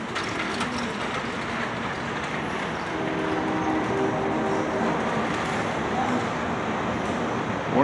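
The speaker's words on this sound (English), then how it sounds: "Where is that train?" A train rumbles past in Portland, Oregon, a steady broad roar with faint rhythmic clatter that holds at an even, fairly close level for the whole stretch, with no talking over it.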